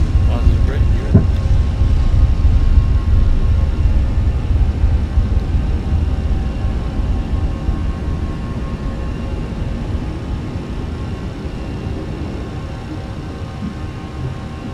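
Airbus A321 jet engines roaring loud and steady during the takeoff roll and rotation in Microsoft Flight Simulator, a broad rumble that eases slightly as the climb begins, with cockpit voices calling out over it.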